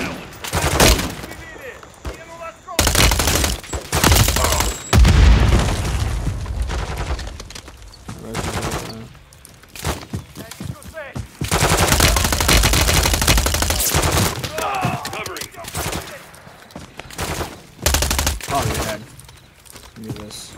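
Gunfire in the Modern Warfare 3 campaign video game, long bursts of rapid automatic fire and single loud shots in clusters with short gaps between, while a voice talks over parts of the action.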